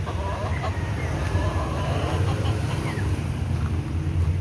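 A young rooster (stag) clucks in a cage outdoors, brief faint clucks over a steady low rumble of background noise, with no talking.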